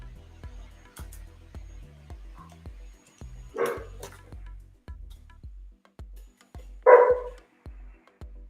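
Dogs bark in short loud bursts, two strong outbursts standing out over a steady rhythmic thumping in the background, with no talking.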